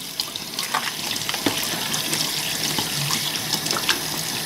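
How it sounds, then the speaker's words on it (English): A Fluval FX6 canister filter O-ring is rinsed under a running tap, steady close water splashing and trickling for the whole stretch with small uneven surges, no voices. "Take your O-ring off, rinse that out."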